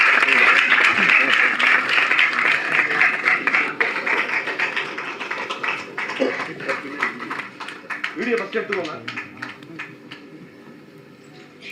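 A crowd at a film trailer launch event bursts into loud, sustained applause, claps rattling densely at first and then thinning into scattered, fading hand claps.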